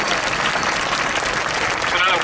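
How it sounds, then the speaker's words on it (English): Crowd applauding at a Stater Brothers supermarket grand opening in Hemet, California, a short dense burst of clapping mixed with voices in the crowd. "let's give one round of applause for all this real quick."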